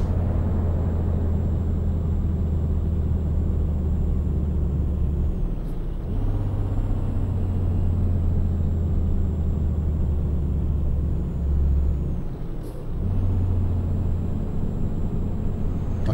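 A truck engine droning steadily in the Euro Truck Simulator 2 video game, a loud, constant low rumble held at high revs, broken by two short dips where the pitch drops and then recovers.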